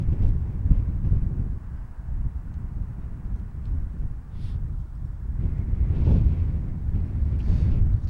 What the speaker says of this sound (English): If anything, I think it's getting windier up here.